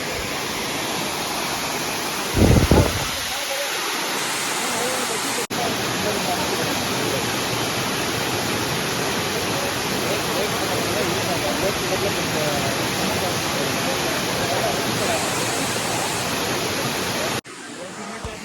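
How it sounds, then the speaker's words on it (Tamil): Kookal waterfall in Kodaikanal pours steadily as a loud, broad rushing roar. The roar fills the whole span, with a brief sharp disturbance near the start. "நம்ம ஒரு வாட்டர் ஃபால்ஸ் சார்."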